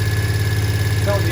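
A Triumph Speedmaster 865 motorcycle engine idles with a steady, low, throbbing pulse, close and fairly loud, with a brief faint voice near the end.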